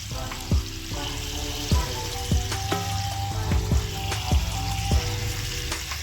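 Fish frying on a tawa over a wood-fired stove, a steady close sizzle with repeated clinks and scrapes of a utensil against the pan.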